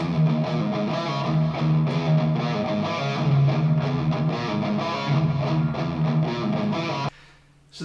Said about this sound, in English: So the main riff is in 6/4 time and sounds like this.